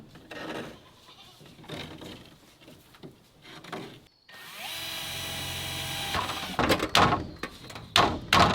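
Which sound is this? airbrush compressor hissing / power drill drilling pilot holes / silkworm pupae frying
power drill drilling pilot holes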